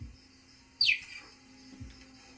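A cheetah gives a single sharp, high, bird-like chirp that sweeps downward and ends quickly, standing out clearly against a quiet, low background.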